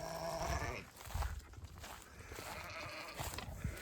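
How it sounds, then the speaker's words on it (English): Lambs bleating in a farm setting, several overlapping wavering calls fairly close, repeated across the clip over a busy background of barn noise. "You lambs were interested in the horses, weren't you?"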